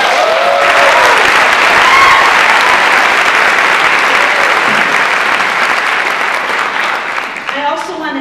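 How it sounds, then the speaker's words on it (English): Loud, sustained applause from a lecture audience fills the room at an evening talk on adolescence, a dense steady clatter of many hands with some crowd voices mixed in, tapering slightly at the end. "I want to give a big round of applause"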